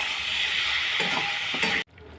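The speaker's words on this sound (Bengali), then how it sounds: "এরপর সবজির সাথে মশলা ভালো করে মিশিয়ে কষিয়ে নেব।" Vegetables and spices sizzle steadily while being stirred and fried in a pan for a Bengali mixed-vegetable dish, with a few scraping stirs before a sudden stop.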